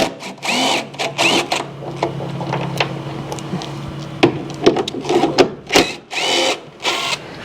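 A power tool blasts bolts out underneath a Kawasaki KRX 1000 during rock slider installation, giving several short, loud, close whirring bursts separated by brief pauses.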